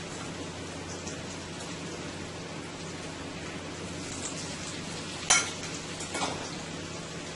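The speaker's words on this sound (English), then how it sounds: "So I'm searing it into my pan." Potatoes sear in a large 14-inch cast iron skillet, giving a steady, even sizzle throughout with a couple of brief sharper crackles or clinks near the end; no voices.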